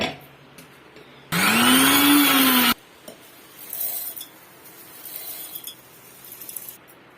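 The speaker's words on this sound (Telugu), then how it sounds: "మిక్సీ పట్టేస్తున్నాను" A mixer grinder whirs loudly for about a second and a half, grinding roasted lentils into a spice powder, then stops, followed by light clinks of the jar and spoon.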